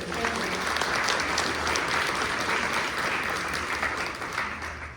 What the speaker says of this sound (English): let's give Byron a round of applause